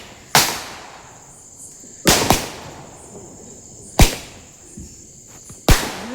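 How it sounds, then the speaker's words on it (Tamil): Leftover Diwali firecrackers burst one after another, four loud, sharp bangs spaced roughly two seconds apart, each with a short echoing tail and quiet gaps between. "வாங்கின மிச்ச வெடியெல்லாம் வந்து வெடித்து வந்து தீக்கிறோம்."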